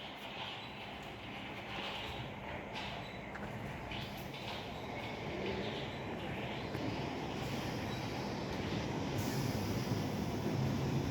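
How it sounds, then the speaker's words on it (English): A London Underground Piccadilly line train pulls into a station with a steady, loud rumble and rattle that builds slightly and never lets up, and no one speaks. "the Piccadilly line's actually just pulling in to take me to Acton Town"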